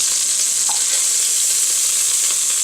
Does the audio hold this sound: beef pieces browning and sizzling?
yes